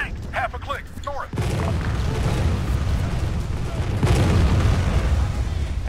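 A tank hit in the military game ArmA 3 explodes with a sudden deep boom that rolls into a long, loud rumbling roar, swelling again near the end after brief voices at the start.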